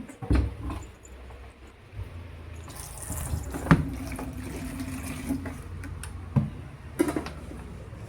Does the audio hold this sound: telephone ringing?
no